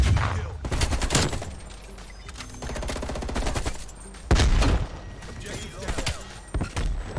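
M16 rifle fire in the video game Black Ops Cold War comes as repeated loud, rapid automatic bursts, broken by short gaps and thuds from other in-game action.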